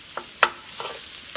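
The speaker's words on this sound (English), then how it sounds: "So you see I'm trying to stir gently." Tofu scramble with potato being stirred gently in a frying pan, giving a few soft scraping strokes and light sizzles spaced apart, close and moderately quiet, with no talking.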